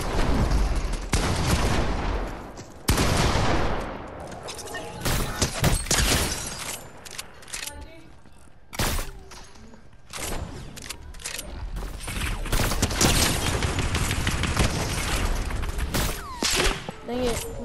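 Sniper rifle shots ring out in Fortnite, several loud separate cracks spaced seconds apart, mixed with mechanical reloading clicks and other game noise, with a voice talking in between.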